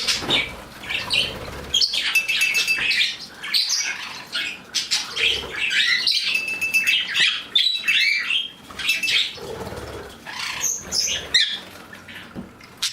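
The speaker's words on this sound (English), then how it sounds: "And Sprinkles loves to bathe when the Budgies are bathing" Budgies and a Bourke parakeet chirp and chatter in a busy cage while bathing, with quick wingbeats and splashy fluttering, steady and close throughout.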